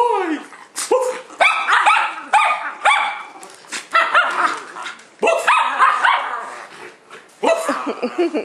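A puppy barks and yips in quick repeated bursts close up, sharp and loud, with short whimpering pauses between volleys.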